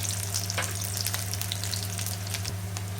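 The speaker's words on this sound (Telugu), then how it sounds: "నూనె వేడైన తర్వాత ఉల్లిపాయ ముక్కలు వేసుకోవాలి." Onion pieces sizzle in hot oil in a pan for a brinjal fry, a steady close crackle with bright popping spatters and a constant low hum beneath.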